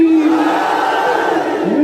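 A large political rally crowd in Pakistan chants religious and party slogans in unison, a loud, dense roar of many voices sustained throughout the short stretch.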